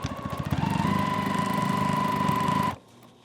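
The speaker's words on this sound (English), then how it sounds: "we're just going to sew right along this edge to attach it to the back" A sewing machine runs steadily as it stitches along the edge of a piece of fabric to join it to the back, a close, even mechanical whir that stops abruptly near the end.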